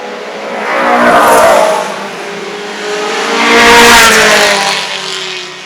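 Alfa Romeo Giulietta Sprint coupe race car at an Italian marque vintage race, engine roaring past twice in the clip, swelling loud then fading, with no talk.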